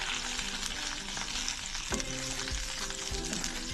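Okra in sweet chili garlic sauce frying in a pan, with a steady loud sizzle and intermittent scraping strokes of a spatula stirring the thickening mixture, close up and without talk.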